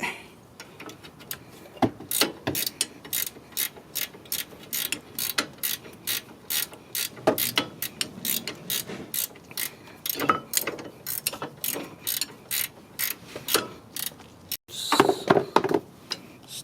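A ratchet tightens a front brake bolt on a 2006 Toyota Yaris, with a long run of rapid, evenly spaced clicks close by, then a brief louder clatter near the end.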